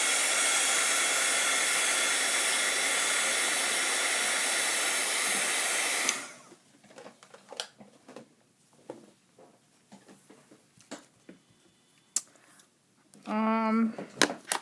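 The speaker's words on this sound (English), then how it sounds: "I'm going to give it a little bit of heat because I want some of these colors to dry before I move on" A heat tool blows a loud, steady, close roar for about six seconds while drying watercolor distress inks, then cuts off and leaves quiet handling noises and a brief voice.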